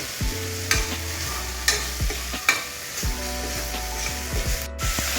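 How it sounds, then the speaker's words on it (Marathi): Coriander leaves sizzle steadily in hot tempering oil with a crackling hiss, broken by a few sharp spatters and scraping stirs close by. "फोडणीमध्ये थोडीशी कोथिंबीर पण घालून घेऊया आपण"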